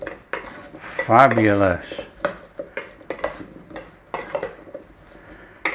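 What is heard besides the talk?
stirring Brussels sprouts with Parmesan and garlic in a pan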